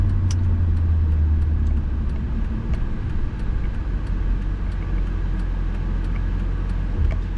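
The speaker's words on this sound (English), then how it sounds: "I just went over a little bit of a pothole there" A 2004 Mercedes-Benz E55 AMG with a 5-speed automatic rolls along a road and crosses a small pothole, heard from inside as a steady loud engine and road rumble with faint thumps and rattles.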